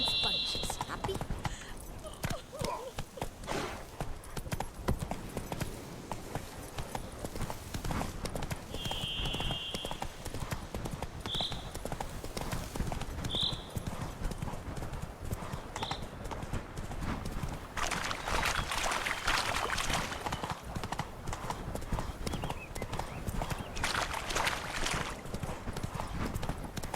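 Roach the horse in The Witcher walks with steady, repeated hoof clip-clops throughout, a faint whinny or two mixed in over ambient game sound.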